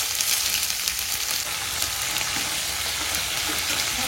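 Dried red chillies, curry leaves and mustard seeds fry in hot oil for a sorrel-leaf chutney, giving a steady, close hiss of sizzling with faint crackles throughout.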